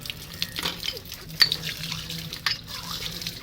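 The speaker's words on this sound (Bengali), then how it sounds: "আমি ঠাকুরের বাসনটা ধুই" Running water splashes over utensils as they are washed by hand at a sink, with irregular drips, splashes and faint clinks close by, and no talking.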